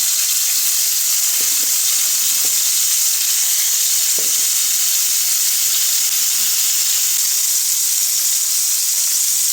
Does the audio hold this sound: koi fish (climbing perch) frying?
yes